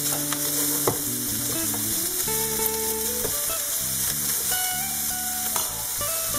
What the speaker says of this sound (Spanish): Por otro lado, sofreímos el bacon. Hay que sofreírlo hasta que esté bien doradito.